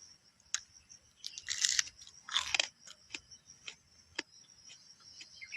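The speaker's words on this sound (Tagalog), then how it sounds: "Fresh na yung kinakain nating ampalaya" Someone eating freshly picked raw bitter gourd (ampalaya), close crisp crunching bites followed by a steady run of moist chewing clicks, with no talk.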